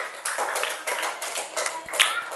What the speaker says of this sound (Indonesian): berikan aplaus untuk kelompok A